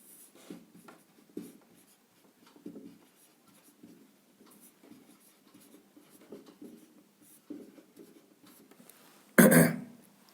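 Pen or marker writing out a geometry problem for a Class 10 maths lesson, producing soft scratchy strokes in short bursts with pauses between them, followed by a loud brief thump near the end.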